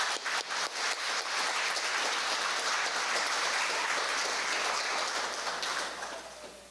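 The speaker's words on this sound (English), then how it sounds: "Let's give a round of applause, everybody." Sustained audience applause fills a hall at an awards ceremony for sanitation workers, starting with a few scattered claps, swelling into steady dense clapping, then thinning toward the end.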